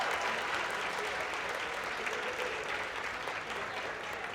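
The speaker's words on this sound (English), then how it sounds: "Now give him a big round of applause." Guests at a scholarship fundraising auction applaud a bidder, a fairly soft, even, continuous spread of crowd clapping with no clear voices.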